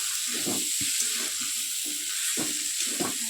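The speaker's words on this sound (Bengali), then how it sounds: "টমেটোটা দিয়ে দিলাম নাড়াচাড়া দিয়ে" Tomatoes sizzle and fry in a pan while being stirred, a steady hiss with scattered soft scraping strokes of the spoon, close and continuous, with no talk.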